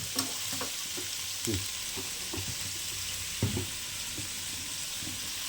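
Onions fry with rock salt in a pan for an egg curry, giving a constant close sizzle punctuated by occasional scraping stirs, with no voices.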